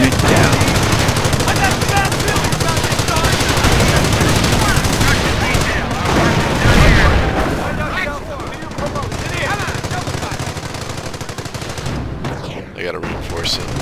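Machine gun fire from an MG nest in Company of Heroes, with continuous rattling bursts mixed with heavier gunfire and explosions, loud and dense, easing slightly in the final seconds as the battle noise carries on.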